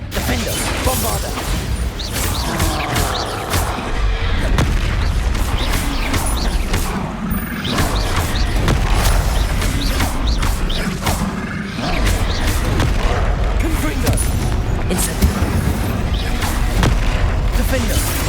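Repeated Bombarda spell explosions in the Hogwarts Legacy video game, heavy booms and crashes in a continuous loud battle din with clattering debris, voices calling out spells throughout.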